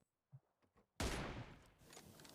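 Gunfire in the mobile game PUBG Mobile sounds as a loud sudden burst after a few faint thumps, then a decaying rattle and echo.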